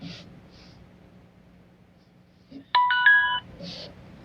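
A Mubview J7 smart video doorbell gives a short electronic chime of a few stacked tones after a faint button click, set against a quiet room with soft rustling.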